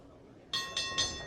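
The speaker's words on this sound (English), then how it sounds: "Bell sounds, we're underway." A wrestling ring bell rings three quick, bright clangs in fast succession to start a match, each with a ringing metallic tone over quiet arena background.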